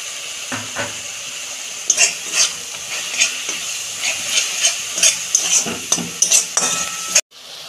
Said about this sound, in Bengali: এটা একটু ভালো করে কষতে নেব